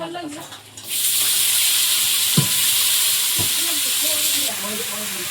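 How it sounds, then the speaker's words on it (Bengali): Oil hisses and sizzles loudly as vegetables hit a hot wok, a steady frying roar with a couple of utensil clinks. "কড়ার মধ্যে এবার একটু তেল দিয়ে দেবো দিয়ে এবার ভাজাটা চাপাবো"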